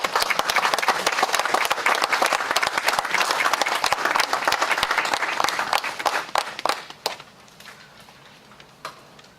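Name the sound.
audience applause at city council meeting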